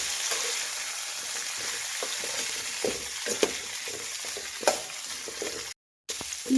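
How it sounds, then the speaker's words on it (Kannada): Half a kilo of drumstick pieces fry in oil for a wedding-style sambar, a constant close hiss with occasional stirring knocks and a brief dropout near the end. "ಇದು ಅಷ್ಟೇ ಫ್ರೈ ಮಾಡಬೇಕು ನುಗ್ಗೆಕಾಯಿನ"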